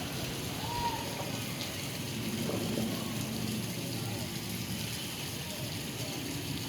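Heavy monsoon rain pours steadily while storm water drains in a swirling whirlpool on a flooded road, a dense, continuous wash of water noise with no break.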